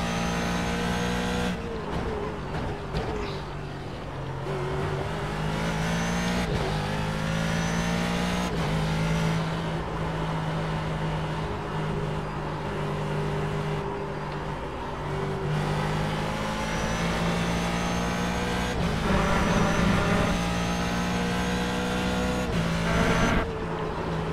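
The engine of a Blancpain Ford GT3 race car in iRacing at Road America revs continuously, climbing through the gears with repeated upshifts and lifts, loud and close, with no voices over it.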